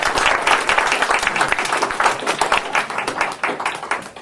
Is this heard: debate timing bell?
no